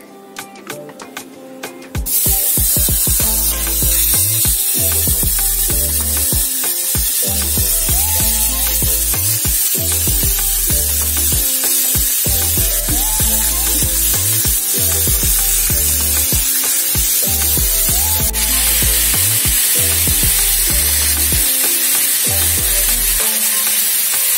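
Loud, continuous sizzling of steaks frying on a hot plancha, a steady hiss that starts after a brief moment, with music playing underneath.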